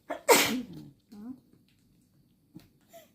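A person sneezes once, loud and close, in a sharp burst, during a durian-peeling session; short spoken remarks follow in the quiet afterward.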